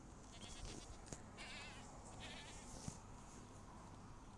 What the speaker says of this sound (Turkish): Uuu keçi buraya kadar gelmiş.